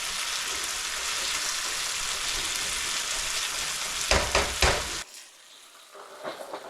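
Potatoes with garlic, onions, oregano and other seasonings sizzle loudly and steadily in a frying pan, then a few stirring scrapes sound and the sizzle drops sharply quieter.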